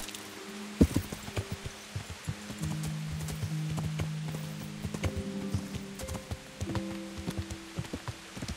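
Horse hooves clip-clop steadily at a walking pace in the video game Kingdom Come: Deliverance, close by, over soft ambient rumble with a few sustained low tones in the background.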